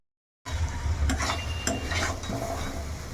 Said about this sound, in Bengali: এই আলুটা দিয়ে এখন এইবারে আর একটু ভালো করে কষিয়ে নেব এই মশলার মধ্যে।